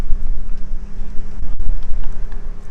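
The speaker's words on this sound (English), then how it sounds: "we're on a slope and it's windy" Strong wind on a seaside slope buffets the microphone in loud, uneven gusts, with a low rumbling roar and a brief lull partway through.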